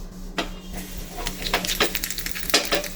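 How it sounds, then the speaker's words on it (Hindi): Cumin seeds sizzling in about a tablespoon of hot mustard oil in a pan, with a soft sizzle under sharp crackles and pops, plus a few stirring and utensil clinks against the pan. "जीरा को भूनने के लिए अब हम इसमें थोड़ा सा सरसों का तेल डालेंगे"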